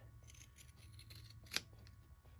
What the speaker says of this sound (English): You just come in gently and cut around the curves